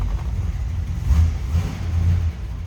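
A 1955 Chevrolet 3100 pickup truck engine rumbles low and steady, swelling in a couple of revs before settling, fairly close with no talking.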